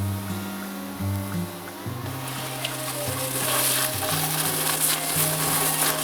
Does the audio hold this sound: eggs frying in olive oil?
yes